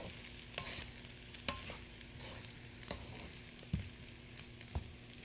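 Egg, shrimp and rice fry together in an uncovered pan for chili beef and shrimp fried rice, a soft, steady sizzle punctuated by spatula knocks and stirring scrapes, with no one speaking.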